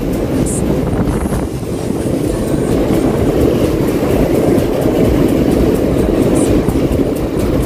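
Manila MRT train rumbling past in the rain, a loud, steady low roar with rhythmic clickety-clack of wheels holding for several seconds, with a couple of brief high squeals.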